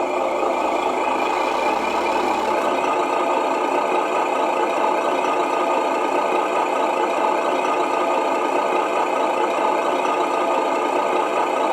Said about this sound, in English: So this is ramped up with your engine sounds.